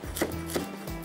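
A knife chops chillies on a cutting board while preparing a ridge gourd curry, making three or four quick, close thuds in an even rhythm.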